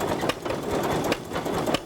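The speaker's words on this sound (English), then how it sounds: "This 1916 Galloway is the oldest engine in Ron Diffenderfer's collection." A 1916 Galloway antique flywheel engine runs steadily and close, its rapid repetitive chuffing and mechanical clatter filling the air with a sharp regular beat and no talk over it.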